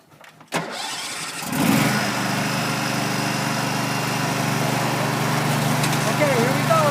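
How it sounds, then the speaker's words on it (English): A small orange tractor engine cranks and catches, then settles into a steady, fairly loud idle that runs without a break to the end. "That's my orange tractor."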